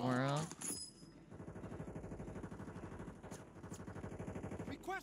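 Gunfire in the video game Warzone 3 comes as a steady, rapid automatic burst that runs for several seconds, heard moderately loud behind a brief radio-style voice at the start.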